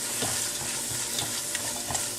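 Onion, garlic and thyme sautéing in butter in a soup pot, giving a constant close sizzle broken by soft scraping stirs at a regular pace.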